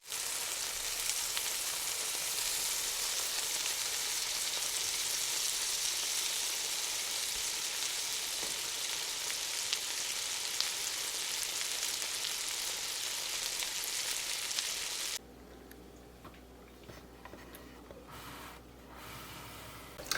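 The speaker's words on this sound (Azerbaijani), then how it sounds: "200-ünü də bu şəkildə qızardırıq." Yogurt-dough pirozhki fry in a pan with a steady, close, loud sizzle that runs unbroken for most of the stretch, then drops to a quieter background with a few faint clinks near the end; no one speaks.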